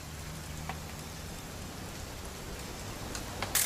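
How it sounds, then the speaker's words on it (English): Steady, soft rain falls continuously in the video game What Remains of Edith Finch, a quiet, even hiss of drops with no voices over it. "It's gonna rain the whole weekend"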